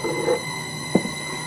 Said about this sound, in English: I apologize for the harmonic noise coming from the frequency drive.